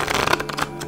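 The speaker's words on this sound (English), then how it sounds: "They tell me to shuffle like that," Tarot cards being shuffled by hand, a quick run of dense papery riffles and flicks close to the microphone, lasting under a second with no talking.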